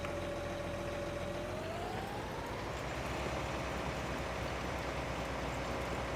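A tractor engine runs in Farming Simulator 19 with a steady low mechanical drone. A tone rises gently partway through as the engine note shifts, and the sound stays fairly quiet throughout.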